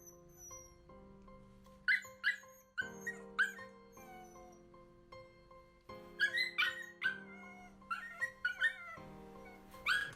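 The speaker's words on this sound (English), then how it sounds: "that's the same fucking dog audio track that you found on the internet" A dog barking and whimpering in repeated short bursts of yips and whines, fairly close, set over a steady sustained musical backing.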